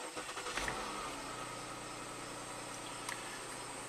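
A Jeep Cherokee 4x4 with transmission problems starts, a short cranking burst at the outset settling into a steady quiet engine idle with a constant high whine above it, faint and heard alone.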